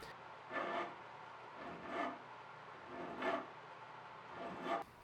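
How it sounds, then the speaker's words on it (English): Metal file rasping down cut stainless steel tube pins set in a knife handle, four separate strokes spaced about a second apart, each a short gritty scrape, close and fairly quiet, with no talking. "Slide them in, file down most of the excess,"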